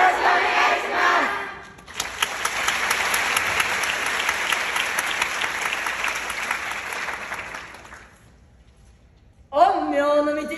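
A festival crowd at the Kansai Aki Matsuri 2022 applauds a dance troupe's performance: broad, sustained clapping swells for several seconds, then fades out, with voices speaking briefly before and after.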